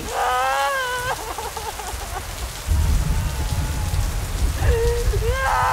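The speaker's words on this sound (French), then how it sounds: "il commence à pleuvoir" Steady rain pours down with a low rumbling undertone, while wavering, cry-like wails rise over it at the beginning and again near the end.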